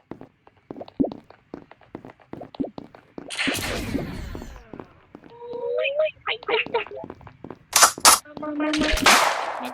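Gunfire from the mobile game Super Sus: sharp repeated game shots and whooshes in scattered bursts, mixed with short electronic effect tones, with a voice talking over much of it.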